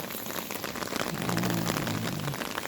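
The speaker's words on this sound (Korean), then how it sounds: "빗소리도 참 예쁘게 떨어지는 장소인 것 같습니다" Steady rain patters on a restaurant's wooden deck, a soft continuous hiss with scattered drops, no voices.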